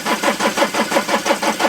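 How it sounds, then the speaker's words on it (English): A diesel car engine that has been filled with petrol cranks over on the starter in a steady, evenly pulsed rhythm, loud and close with no voices. "We've still got the option of turning the engine over, seeing which one squirts fuel out."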